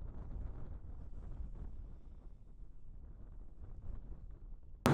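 Strong wind on Loughrigg Fell buffets the microphone in a steady, low, rumbling roar with gusty surges, alone with no voices, ending in a sudden loud bump.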